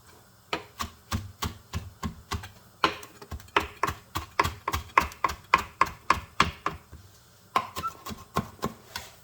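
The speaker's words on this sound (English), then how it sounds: "We'll chop our cilantro." Fresh cilantro is chopped with a knife on a cutting board during a Hispanic Heritage cooking demonstration, making about two dozen crisp, close knocks in quick runs with short pauses.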